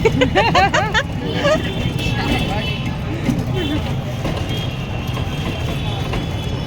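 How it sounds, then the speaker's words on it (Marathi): Continuous engine rumble and road noise from inside a tempo auto-rickshaw moving through Indore city traffic, with people talking loudly over the drone throughout. "ये टमटम मध्ये बसलो आम्ही"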